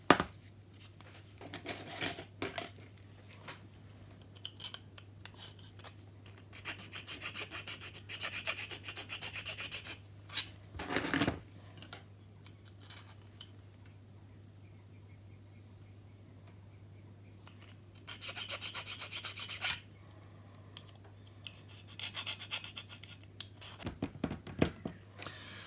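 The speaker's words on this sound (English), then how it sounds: "then I'll just switch over to a file just to finish off and get the final" A hand file rasps a slot into a plastic part of a 1/200 Trumpeter Bismarck model kit, quiet scraping strokes in irregular bursts separated by pauses, over a steady low hum.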